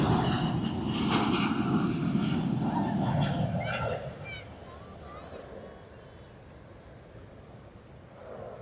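A Cebu Pacific airliner rotates on takeoff at Sydney Airport, its engines a loud, broad roar that fades after about four seconds into a distant rumble, with wind noise on the microphone.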